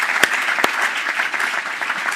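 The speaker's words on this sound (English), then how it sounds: "a big round of applause to all the presenters" Conference audience at a UK regulation event applauding the presenters, a steady, moderately loud round of clapping from a seated crowd with a couple of sharp claps standing out near the start.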